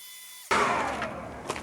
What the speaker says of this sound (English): I got my blower here